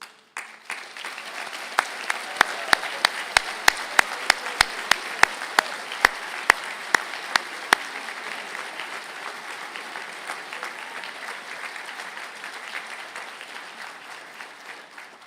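Graduates of electrical services and automation engineering are applauded at a university conferring ceremony in Galway: a hall full of steady clapping, with a few sharp, close claps standing out early on, fading gently toward the end.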